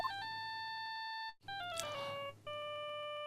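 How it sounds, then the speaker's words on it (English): In the video game Ace Attorney: Justice For All, a cell phone rings with a bright electronic ringtone: steady looping beeps, a brief cutout, then a falling chime sequence and more ringing. It is clear and moderately loud, with no voices. "All of a sudden, the phone began to ring."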